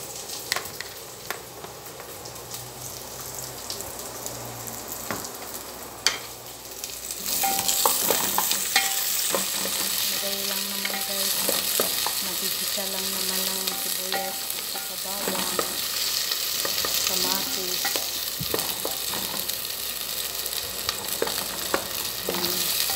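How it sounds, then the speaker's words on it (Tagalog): Garlic sizzling in a hot pan, starting quieter with scattered scraping, then erupting into a loud steady hiss of frying with frequent clinks and scrapes of stirring throughout. "Lagay na natin yung bawang."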